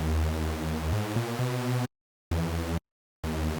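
A raw Reese bass from the Serum synth, made of two heavily detuned saw waves, drones thick, buzzy and loud with a slow beating wobble, then steps up through two held notes and repeats as short stabs separated by sudden silences.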